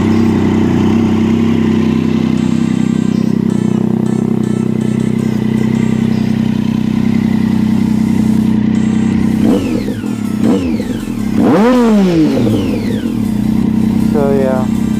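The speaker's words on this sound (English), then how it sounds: "that's a nice little exhaust" A motorcycle with a newly fitted exhaust idles loudly and steadily nearby, then revs sharply several times, its pitch rising and falling in quick surges.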